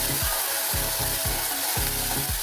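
Green chillies, curry leaves and tomatoes sauté in a pan for paruppu kuzhambu, a dense continuous sizzle with rhythmic stirring scrapes repeating every half second or so.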